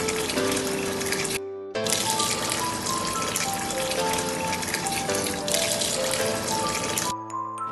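Water streams steadily into a cooking pot for chicken biryani, a continuous splashing pour that stops briefly, resumes and runs on before cutting off near the end.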